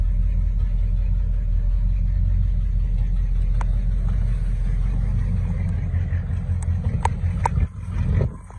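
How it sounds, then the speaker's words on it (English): A 1966 Cadillac Coupe DeVille V8 idles with an exhaust manifold leak, a steady loud low rumble heard up close, with a few faint clicks and knocks near the end. "Got a little exhaust leak at the manifold that probably needs to be addressed."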